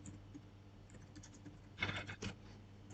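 Keystrokes on a computer keyboard while text is typed, soft scattered clicks with a couple of louder bursts of keys near the end, close and quiet with no talking.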